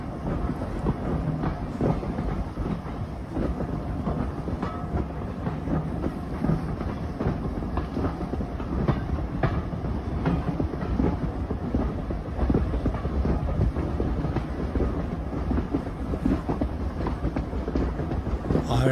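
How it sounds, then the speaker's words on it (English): An Isle of Wight train rolls steadily along the rails with a constant loud rumble and rhythmic clickety-clack of wheels over joints, heard up close from an open window for a sustained stretch. "now here we are hanging out of the train. I'll shut up again so you can listen to the sound of it"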